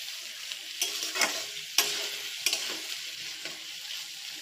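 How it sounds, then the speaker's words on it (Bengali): Fried rice with salt and peas is stirred in a pan, a steady sizzle broken by repeated sharp scrapes and clinks of the utensil against the pan, close up and without any speech. "লবণ দিয়ে আবার নাড়তে থাকবো ভালো করে।"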